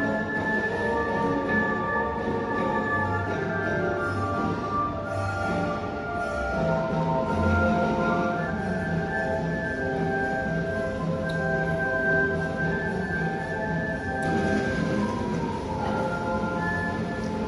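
A small park train rumbles along steadily at Carillon Park, with a low mechanical drone and faint clatter throughout and some distant background chatter.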